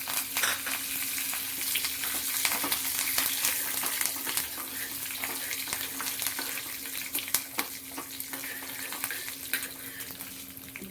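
Cumin seeds and curry leaves temper in hot oil with a steady, close crackling sizzle that runs without a break, broken by sharper pops and spits throughout.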